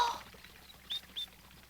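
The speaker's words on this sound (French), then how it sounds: "Combien peut-il y avoir d'oiseaux dans les sapins?" Birds calling from fir trees in a quiet mountain setting: two short, faint chirps a fraction of a second apart over a soft background, with no voices.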